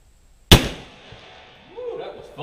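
A Jukar .45 caliber Kentucky rifle fires one loud, booming shot, fired freehand, and the blast fades into a quiet tail. A voice follows shortly after.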